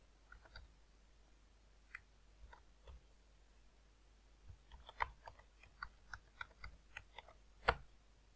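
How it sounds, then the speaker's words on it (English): Soft keyboard typing, scattered clicks in short bursts with pauses between, quiet and close with no talking. "I'm typing my new password."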